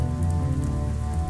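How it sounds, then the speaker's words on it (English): Steady rain pours down in a dense, continuous wash of drops, fairly loud, with a low sustained tonal hum underneath and no speech. "Clouds return water to Earth in the form of rain and snow."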